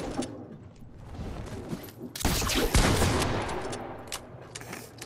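Fortnite gunfire crackles in a dense burst midway, loud shots clustered together over a busy game background, fading afterward with no talk.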